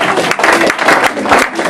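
A lecture audience at a talk on dark matter bursts into brief applause, a loud, close patter of many hands clapping with slight surges over a couple of seconds.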